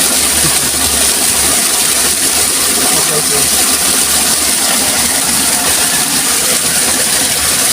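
Steady loud rush of water from a 0.75HP submersible pump drawing from a deep well, a continuous motor hum and gushing flow with no breaks throughout.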